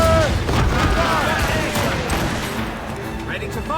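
A volley of ship cannons firing in the naval game Assassin's Creed Rogue, heavy overlapping booms rumbling loudly and continuously, with shouted crew voices over the barrage.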